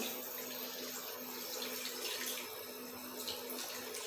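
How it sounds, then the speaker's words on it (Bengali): Water is poured into a hot kadai on the stove, giving a steady, continuous splashing rush that holds at an even level for several seconds, close by and with no talking. "এবারে ঢেলে দেবো জল"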